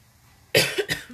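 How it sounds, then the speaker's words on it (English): A quick burst of two or three coughs, close and sharp, after a quiet moment. "I do apologize for all the coughing"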